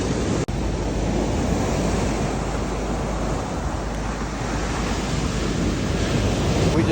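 Ocean waves and surf roll in at T-Rex Beach on Nusa Penida, Bali, with a swell of three to four feet. A constant, loud, close roar of breaking water and wind fills the whole stretch, with no pause.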